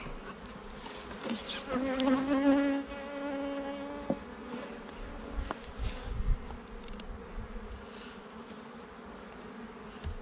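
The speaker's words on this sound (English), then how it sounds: "The bees are out flying." Honeybees buzz close by around a hive, several drones overlapping and shifting in pitch as they fly around, with faint rustling underneath.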